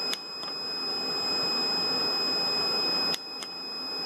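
A steady electronic burglar alarm buzzer from a TI MSP432 home automation setup drones continuously at high pitch, with a brief break near the end before resuming; no voices.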